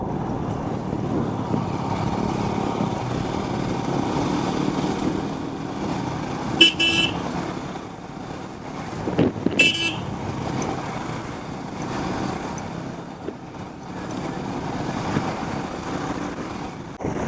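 An adventure motorcycle rides an off-road dirt trail, its engine droning steadily up close with rough bumps and rattles, and two short horn-like bursts stand out midway through the ride.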